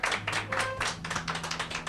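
Audience at an evening singing show applauding as the singer is welcomed, giving a short burst of scattered hand claps from a small group that thins out over about two seconds.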